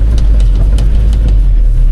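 A Mahindra Bolero pickup in third gear on a narrow road gives a loud, steady low engine rumble as it gathers speed, with faint clicks and rattles over the top and no voices.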